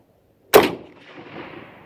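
A Mauser 1891 rifle in 7.65x53 Argentine fires one loud, abrupt shot at a steel groundhog target 125 yards away, after near silence, and the blast trails off into a lingering rumbling echo.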